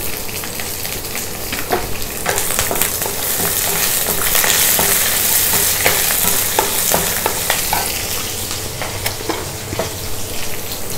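Cashews, curry leaves and green chillies frying in a pan with urad dal and chana dal for sago upma: a steady close sizzle with frequent sharp clicks and taps from stirring, no talking.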